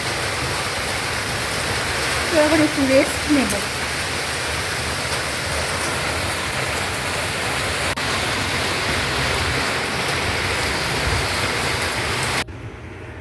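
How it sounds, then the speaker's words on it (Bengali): Heavy rain falling steadily, a dense, loud, continuous roar of broadband hiss that barely changes, with a person briefly speaking over it. "আর দেখছি বৃষ্টিটা ভালোই এসছে।"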